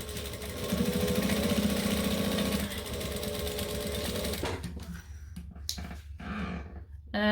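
A sewing machine runs steadily through new thread in its first stitching session, loud and continuous with a fast mechanical whir, then stops and gives way to short, irregular bursts of handling noise.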